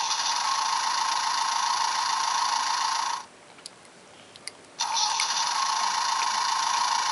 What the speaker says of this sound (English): You like the truck sound